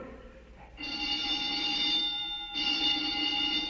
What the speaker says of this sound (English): The old woman must have turned in an alarm.